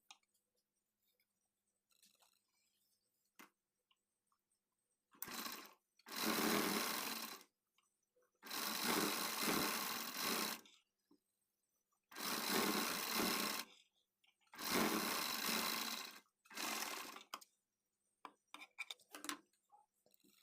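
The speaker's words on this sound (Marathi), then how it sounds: "आता हिला दाबटीप पण देऊन घ्यायची" A sewing machine topstitches a strip onto a kurti sleeve in five close bursts of a few seconds each, with quiet pauses, small handling clicks and fabric shifting between them.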